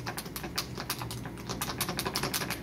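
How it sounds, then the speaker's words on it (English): Crisp, clacky BraillePlus braille keyboard keys struck in quick bursts of several presses at once, close and distinct, with no talking. "the keys on the BraillePlus, which sound like this."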